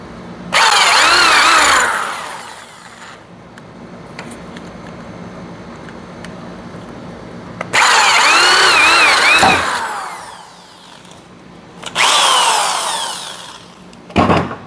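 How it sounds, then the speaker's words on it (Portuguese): Power drill boring holes in a wind generator prototype, three loud bursts of whining drilling separated by quieter stretches of low background hum. "Fechar aqui do outro lado, furar do outro lado."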